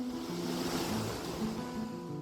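Sea waves roll and wash in a steady, dense surf roar, close and continuous with no voices.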